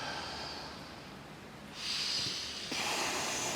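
A group of people draw a deep breath together, a soft airy inhale followed by a louder, hissing exhale that swells partway through and again near the end.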